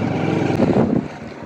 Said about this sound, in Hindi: ऑन द वे हैं, जा रहे हैं बाइक से